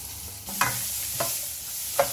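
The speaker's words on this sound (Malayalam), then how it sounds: "ഇതിപ്പോൾ 2 സവാളയാണ് ചേർക്കുന്നത്." Onions for chilli chicken stir-frying in a pan: a steady soft sizzle with three distinct scraping stirs of a spoon, close and alone with no voices.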